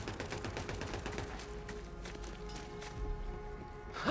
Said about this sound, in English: it's the turret gun